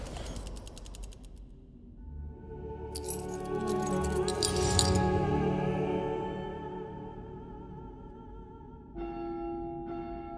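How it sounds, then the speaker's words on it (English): A large church bell ringing the evening Angelus in the game House of Da Vinci 3, with several resonant strikes whose long metallic tones hang and slowly decay, joined by mechanical clinks near the end. "I heard ringing of a large bell. It must be the evening Angelus."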